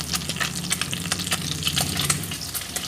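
Small boirali fish sizzling in oil in a pan, a dense continuous crackle with sharp pops and spits, close and fairly loud, with no one talking.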